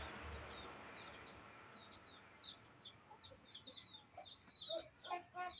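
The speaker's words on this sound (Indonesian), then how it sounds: "Ayam tuh." Chickens cluck and chirp faintly in an outdoor yard where laundry is being hung, with scattered short calls growing busier toward the end over a quiet background.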